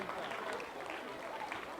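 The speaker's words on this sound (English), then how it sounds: "make the applause bigger" Applause from a school audience at a speech and prize-giving day, a steady dense patter filling the whole stretch at a fairly distant, moderate level.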